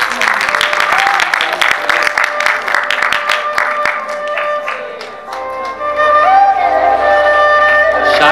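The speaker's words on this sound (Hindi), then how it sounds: "आप खुले दिल से क्लैप कीजिए" An audience at a poetry recital applauds warmly for a poet, with sustained clapping from a crowd, a few voices and a host speaking over the applause.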